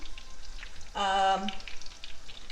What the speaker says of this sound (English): Okay, so I've gotten started frying.